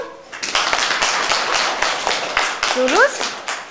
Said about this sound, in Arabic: تصفيقة حارة لكم